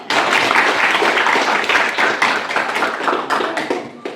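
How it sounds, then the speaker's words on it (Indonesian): Students in an English lesson classroom clapping together, a dense, loud round of applause lasting several seconds, with no talk over it. "Berikan aplaus dulu."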